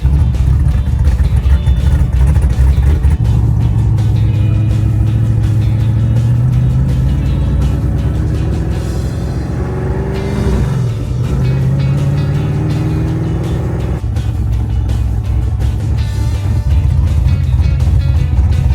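A Mustang drag car engine runs loudly nearby, a deep rumbling idle that rises and falls with revs, steady and close throughout.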